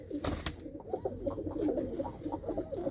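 Pigeons at a home loft coo in low, rolling phrases that overlap continuously, close and steady, with a brief clatter near the start and no speech.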